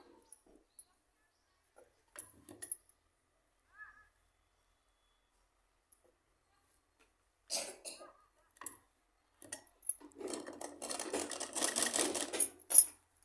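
An electric sewing machine stitches a salwar, quiet at first with a few short taps, then brief whirring bursts that build into a sustained, close run of stitching toward the end.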